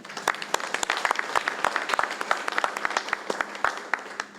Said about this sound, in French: Je vais demander un deuxième applaudissement